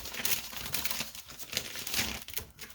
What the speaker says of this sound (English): Now, scissors.